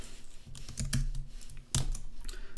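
Close, quick keystrokes on a computer keyboard form short irregular bursts of clicks, with one louder tap near the end and no voices.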